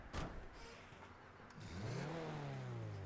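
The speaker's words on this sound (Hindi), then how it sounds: "इंजन की आवाज सुन रहा" A video game car engine revs up, rising in pitch over a couple of seconds after a brief thump, heard alone and fairly close.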